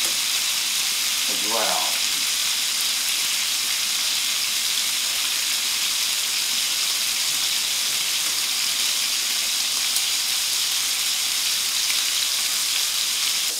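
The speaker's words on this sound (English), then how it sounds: "So the pork is starting to get golden brown" Pork seasoned with Spanish paprika sizzles loudly and steadily in a pan, a dense, unbroken frying hiss up close with a short spoken remark near the start.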